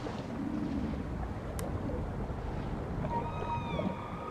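Deep underwater rumble in the video game Maneater, with a whale call rising as a few long, wavering tonal moans near the end over the constant low ocean drone.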